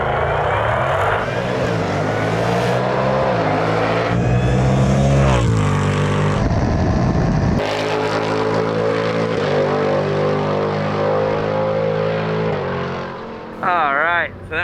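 Supercharged 700 hp 2024 Ford Mustang GT making a drag strip pass, loud engine roar rising through gears with shifts, close and sustained, then easing off near the end with faint voices.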